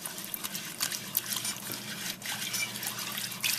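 Cold milk poured slowly into a flour mixture, a soft continuous liquid trickle and splash, close and fairly quiet, no talking.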